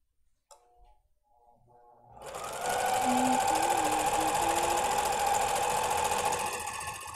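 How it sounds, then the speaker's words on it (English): A serger overlocks the waistband and hem of a knit pencil skirt. After a few quiet clicks and handling noises, the machine spins up into a loud, fast, steady whirring hum that runs continuously to the end. "now we're gonna serge around the waistband and the skirt hem"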